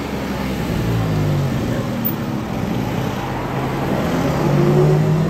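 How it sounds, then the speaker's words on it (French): An Aston Martin V12 Vantage engine hums steadily outdoors at the Top Marques show in Monaco, a continuous loud drone mixed with street and traffic noise that swells slightly near the end. "Sublime cette V12 Vantage."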